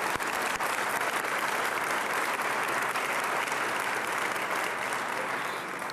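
A crowd applauds steadily at a mayoral inauguration ceremony in St. Paul, dense sustained clapping filling the room at constant loudness throughout.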